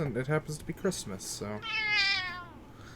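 A pet cat meows in a long, clear, wavering cry right after a stretch of close indoor speech, the meow standing alone and fairly loud near the end.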